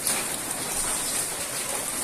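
Steady rain patters and hisses continuously during a monsoon storm over a flooded street, close by, with no talking.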